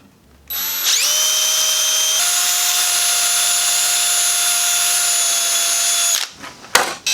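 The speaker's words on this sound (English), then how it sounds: "get the drill and drill our pilot holes." A power drill spins up and runs steadily for several seconds, drilling pilot holes in wood for model railroad bench work, a loud high whine that shifts pitch once before stopping, followed by brief clatter.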